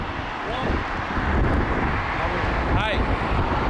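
A jet airliner roars steadily down runway 05 at Toronto Pearson on takeoff, a broad, constant engine rush with wind noise, while radio and voice chatter sits faintly underneath.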